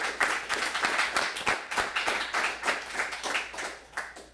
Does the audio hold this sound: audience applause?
yes